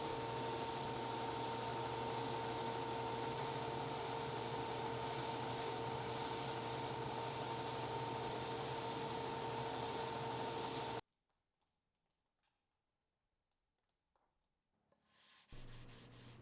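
An edge sander flushes the splines on a wooden picture frame, giving a loud, steady whirring grind that runs for about eleven seconds. It cuts off abruptly into near silence, then the motor starts to spin up again.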